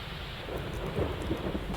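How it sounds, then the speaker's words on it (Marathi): Light rain patters steadily and softly in Nandurbar district, Maharashtra, a hissing outdoor drizzle with a low rumbling undertone beneath it. "सकाळपासूनच नंदुरबार जिल्ह्यात रिमझिम पावसाला सुरुवात झाली आहे"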